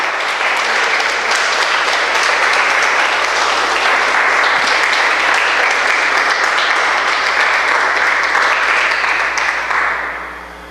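Loud, sustained applause from a church congregation at a service, dense many-handed clapping holding steady for about ten seconds before tapering off at the end.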